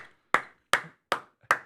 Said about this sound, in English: I'm giving a round of applause